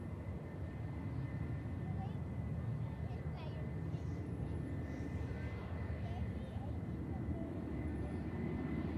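Lufthansa Airbus A321 with IAE engines, arriving from Munich at Manchester Airport, gives a steady distant whine over a continuous low rumble, with faint voices underneath.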